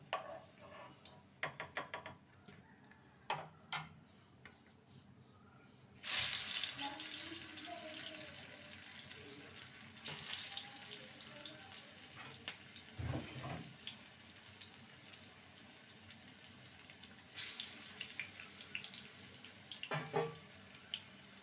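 Bread snacks frying in hot oil give a soft, continuous sizzle and hiss at low volume, broken by occasional clatters and knocks as pieces are handled.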